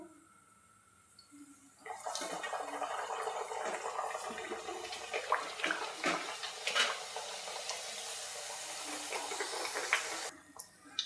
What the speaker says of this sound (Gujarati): એ જ રીતે આપણે બીજા પણ તળી લેશું.